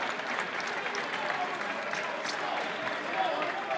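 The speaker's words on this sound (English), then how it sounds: "So a round of applause from the crowd." Crowd at a boys' high school basketball game between Brookline and Newton South gives a steady round of applause for an injured player walking off, heard as a dense, moderate roar of clapping with some voices in the gym.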